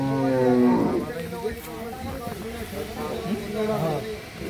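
Friesian cattle on a farm, a deep bovine moo near the start followed by lowing calls, loud and close, with people talking over them.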